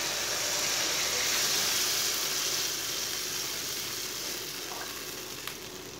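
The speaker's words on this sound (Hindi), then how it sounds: "3 गिलास पानी डाल लेंगे।" Water poured into a hot pan of frying lentils sets off a loud steady sizzle and hiss, close and continuous, slowly easing over a few seconds.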